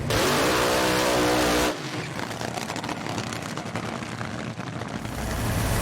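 An AA nostalgia top fuel dragster, the Running Wild car, revs at the Bakersfield March Meet drag race. Its engine roars in a loud, raw blast that drops into a rough, throbbing idle with uneven pulses.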